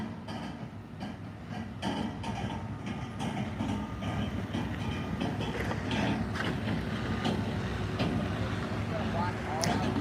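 SpaceX Starship rolls slowly on its transporter down a blocked-off road toward the launch pad at Starbase, Boca Chica, Texas. A low, continuous rumble is broken by scattered clanks and clicks, with voices talking underneath.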